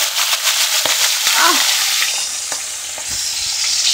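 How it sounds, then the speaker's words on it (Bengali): Fish heads frying in oil in a wok, a steady loud sizzle with a few scrapes and knocks of stirring, no voices. "কড়াই মাছের মাথা দিয়েছি, ভাজছি"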